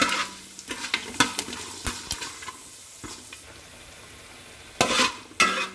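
Mango ginger pickle ingredients frying in hot oil in a pan, a soft continuous sizzle broken by sharp scraping and stirring knocks, with louder bursts of stirring toward the end.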